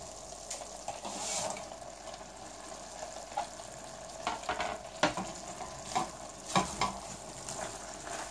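Sausage pieces sizzle in a pot alongside chopped zucchini while being stirred, a steady frying hiss broken by several sharp scraping stir strokes, close and fairly quiet, with no talking.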